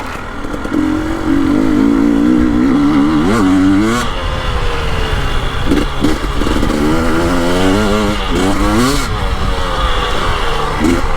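A KTM 300 Erzberg two-stroke TPI dirt bike engine runs loudly and close, with repeated throttle blips and revs rising and falling over a steady mechanical drone.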